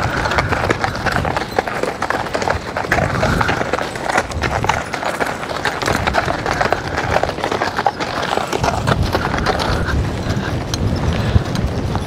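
A team of horses walks with a steady, close, continuous clip-clop of hooves, mixed with jingling harness and creaking gear, and faint talk in the background.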